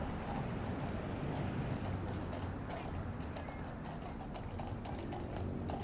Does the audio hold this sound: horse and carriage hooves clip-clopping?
yes